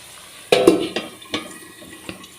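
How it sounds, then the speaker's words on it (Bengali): Potatoes fry with drumstick flowers in a home kitchen pan. Close, sharp scrapes and clinks from stirring break over a low sizzle, with about five distinct knocks spread across the moment. "আলু ভাজা চলছে, যেটা কিনা সজনে ফুল দিয়ে বেতো শাক ভাজা হয়ে গেছে।"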